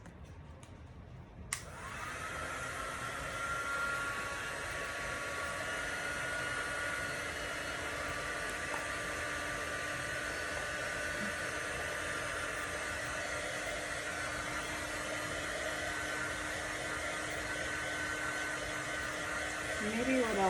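A hair dryer drying a Halloween and Christmas craft decoration: a click, then a steady loud blowing whir that holds close and unbroken for nearly twenty seconds.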